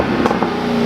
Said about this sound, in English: that cold air intake woke up the whine so much